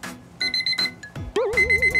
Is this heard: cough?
no